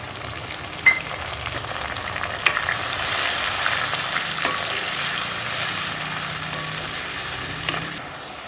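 Onions and green chilies fry in a pan for a meal maker biryani, giving a close, continuous sizzle. A couple of sharp utensil knocks come early, and it fades slightly at the end.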